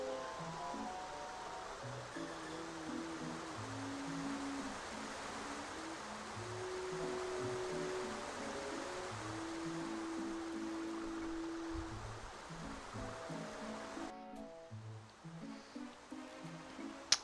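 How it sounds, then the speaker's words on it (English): Water flows from a spring in the Paper Mario 64 video game, a soft steady rushing wash with faint tonal game music underneath, ending in a brief quieter stretch. "Water comes out of it."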